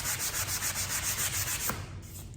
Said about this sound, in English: Just going to give it a light sand